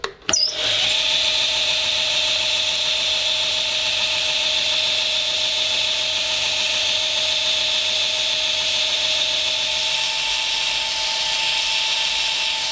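A belt grinder runs steadily and loudly throughout, with a sustained high whine and a constant grinding roar as it shapes the profile of a handmade folding knife.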